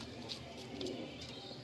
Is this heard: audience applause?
no